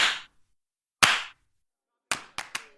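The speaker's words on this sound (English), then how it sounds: "clap those hands!" A handful of sharp, close hand claps ring out at irregular intervals, separated by stretches of silence.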